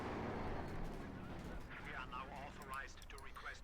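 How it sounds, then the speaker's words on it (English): Artillery piece firing in the video game Company of Heroes 2, a deep rumbling boom rolling under continuous battlefield noise while a commentator talks over it. "He's certainly being flexible with this artillery piece."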